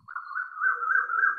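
Asian koel calling outdoors, a single sustained whistled note that rises slightly and holds steady, fairly close and clear, with no talk over it.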